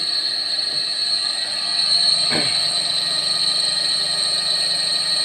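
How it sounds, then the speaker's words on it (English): A three-phase induction motor running under load on a lab test bench gives a steady, loud mechanical hum with a constant high-pitched whine, broken once by a brief clunk partway through. "Now again I am going to increase some load on motor."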